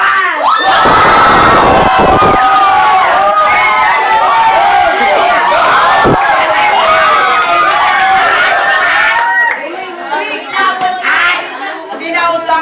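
A large crowd from New Holland cheers and shouts loudly at a live event, a dense roar of voices with high excited screams rising and falling, then thinning into scattered calls near the end.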